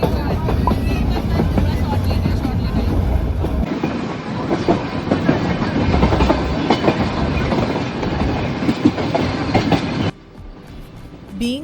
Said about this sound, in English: headed out to catch the famous Ooty Coonoor toy train